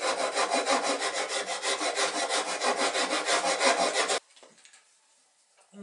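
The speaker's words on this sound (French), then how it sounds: "Avec une bonne lime, une bonne râpe à bois, on peut terminer le retour de galbeur à l'arrière." A file and wood rasp shape the stern of a small wooden toy rowing boat with steady, rhythmic back-and-forth rasping strokes, loud and close, that stop abruptly near the end.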